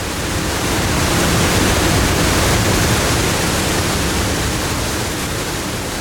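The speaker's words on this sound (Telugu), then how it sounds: "పైనుంచి ఆ ధాటున భారీ స్థాయిలో పడుతున్న జలప్రంగుల్లా కనిపిస్తుంటుంది వర్షాకాలపు పొల్లూరు" Polluru waterfall in the monsoon season roars as a steady, loud, broadband rush of heavily falling water, unbroken throughout with no voices.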